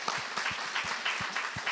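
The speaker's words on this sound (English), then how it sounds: "give yourselves a round of applause" A forum audience applauds with a steady patter of clapping, moderately distant and sustained throughout.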